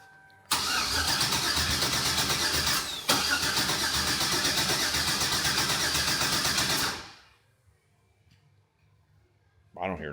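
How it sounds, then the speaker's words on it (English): An engine cranks and catches, then runs at a steady rumbling idle for several seconds before shutting off abruptly, leaving near silence with a brief noise at the end. "I don't hear no dead cylinder. I hear a little rumpity rump"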